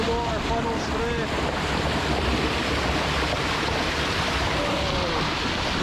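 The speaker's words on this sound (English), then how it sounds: "A unique, incredible waterfall. Wow, that's so cool. Look at the way the water funnels through." A broad, steady rush of water through a narrow funnel at a waterfall in wild Invermark, Scotland, heard as constant near hiss and roar mixed with wind buffeting the microphone, faint birdsong chirps on top, with no speech.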